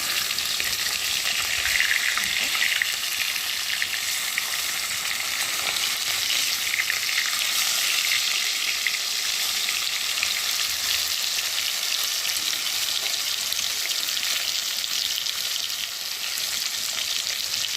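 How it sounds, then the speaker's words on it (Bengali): Fish fries in hot oil in a pan, giving a loud, continuous crackling sizzle that stays even throughout with no breaks, and no one speaks. "মাছটা মানে একটু ভাজা হয়ে গেছে আর আমি এখন উল্টে উল্টিয়ে দেবো"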